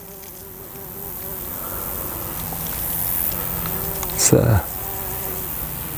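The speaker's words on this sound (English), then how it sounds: "here's a common carder bumblebee enjoying the bird's foot trefoil." A common carder bumblebee buzzing on bird's foot trefoil in a summer hay meadow, a steady close insect drone with a louder swelling pass near the end and a brief spoken word.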